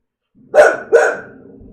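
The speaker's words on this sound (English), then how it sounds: "What a good guard dog you are." A female guard dog indoors gives two sharp, loud barks in quick succession, close to the listener, with no talking over them.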